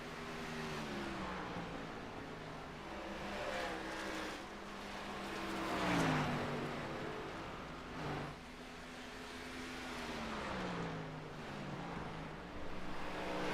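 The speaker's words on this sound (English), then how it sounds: "there are only 14 cars left out here on track" Race cars run laps on track, engine notes rising and falling in sweeping passes, fairly distant and steady over about a dozen seconds.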